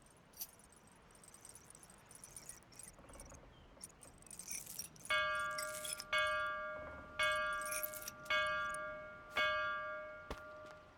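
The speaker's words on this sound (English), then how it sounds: "The sacred bell to announce her arrival." A sacred bell in the Lost Words video game rings five times at a slow, even pace, each clear metallic strike ringing out and decaying, after a stretch of soft jingling and ambient rustle.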